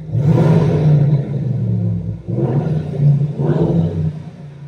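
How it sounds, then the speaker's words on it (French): A car engine roars loudly inside a tunnel, its deep rumble swelling and easing in about three surges of revving that echo close by. "Et dans les tunnels, ça fait du bruit."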